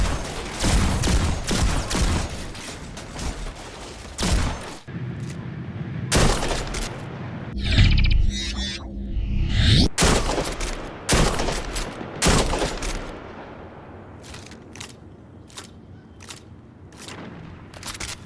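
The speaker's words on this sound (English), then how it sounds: "each weapon sounds fantastic. Very rich, high fidelity, crystal clear snaps and sci-fi electrifying sounds." Sci-fi shotguns in a first-person shooter game fire a long series of loud, sharp blasts with electric crackle, some in quick pairs and some spaced apart, separated by brief mechanical pump and reload clatter.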